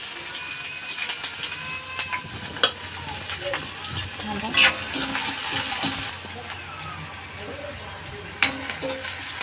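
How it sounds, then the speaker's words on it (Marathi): Onion sizzles in hot oil, a close, continuous crackling fry broken by scraping stir strokes and a few louder pops and spatters. "तेल तापलं, कांदा टाकते मी।"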